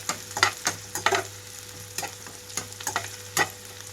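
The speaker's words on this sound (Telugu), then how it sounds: "ఇందులోకి కట్ చేసి పెట్టుకున్న ఉల్లిపాయ ముక్కలు వేస్తున్నాను" Chopped onions frying in a pan on high flame for egg fried rice, a steady soft sizzle with repeated sharp scraping stir strokes at irregular intervals, close and moderately loud, no talking.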